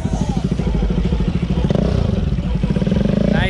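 A Bajaj Pulsar RS200 motorcycle with an aftermarket exhaust idles with a deep, throaty rumble and brief revs, close by and steady throughout.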